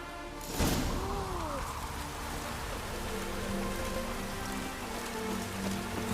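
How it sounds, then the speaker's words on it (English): Steady rain falls across an outdoor scene in The Witcher 3, a continuous close hiss of drops on the ground, with a brief swishing whoosh near the start and a few faint tonal sweeps under it. "Looks like rain."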